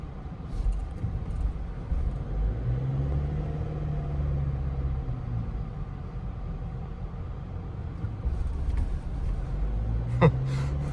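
A GWM Tank 300 2.4-litre diesel SUV rolling over speed bumps, with a steady low engine and road rumble from inside the cabin, a soft thud or two and a brief rattle near the end.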